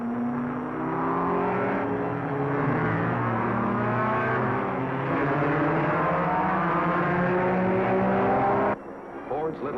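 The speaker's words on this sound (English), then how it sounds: "The clutches bite and the race cars roll." Race cars roll off at the start of the 48th Indianapolis 500 at the Indianapolis Speedway, a chorus of engines droning and climbing in pitch together before cutting off abruptly near the end.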